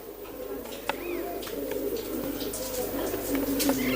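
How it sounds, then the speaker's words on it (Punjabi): Pure Rajan-breed pigeons coo in low, steady murmurs, with a soft chirp or two over an even background hum and occasional faint knocks. "ਆ ਰਾਜਨ ਵਾਲੇ ਪਿਓਰ ਕਬੂਤਰ ਹੈ"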